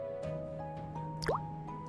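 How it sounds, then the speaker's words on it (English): Water drips in the video game Worlds Align: a single bright plop with a rising pitch stands out against a steady tonal background hum, fairly close and clear. "Drip, drip."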